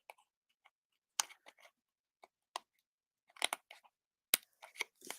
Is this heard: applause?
no